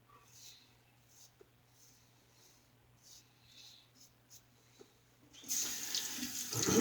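Tap water gushes into a sink for a rinse during a wet shave, switching on abruptly near the end after a quiet stretch and running loud and steady, close by.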